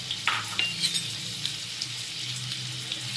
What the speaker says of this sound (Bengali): এর মধ্যে ডিমটাকে একটুখানি ভেজে নেব সামান্য